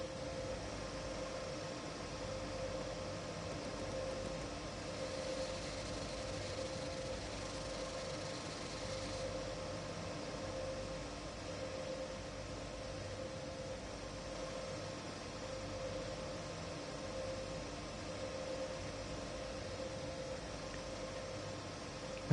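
A train engine idles in Train Sim World on the Ruhr-Sieg Nord route, a steady low mechanical hum with faint tonal whine that drones evenly for over twenty seconds without talk.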